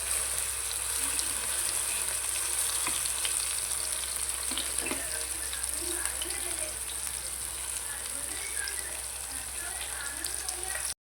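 Steady, close sizzling of Kerala-style fish frying in hot oil in a pan, a continuous crackling hiss with occasional pops.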